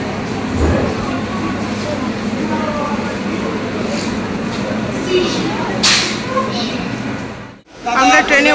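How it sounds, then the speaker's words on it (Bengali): Krishnanagar local train pulling into a busy station platform, a steady loud rumble with a sharp squeal or hiss near the end and crowd voices underneath. "ট্রেন ঢুকছে।"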